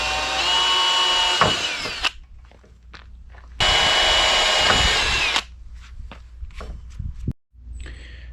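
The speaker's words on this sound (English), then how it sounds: "I drilled some weep holes at each corner just in case water gets in there." A power drill whines in two sustained bursts of about two and three seconds as it bores weep holes into an RV's metal front fender framework, with clanks and handling noises between and after.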